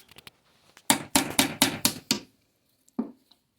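Metal tools are tapped into the seam of a Wheelhorse garden tractor transmission case to split it: a quick run of six or seven close, sharp hammer strikes, then a pause and one more blow.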